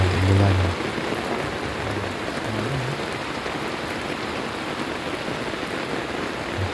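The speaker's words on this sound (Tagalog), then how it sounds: "At ito na nga, biglang umulan." Rain starts suddenly over a flooded area, a dense, steady hiss of drops falling on surfaces with no break, fairly close and loud throughout.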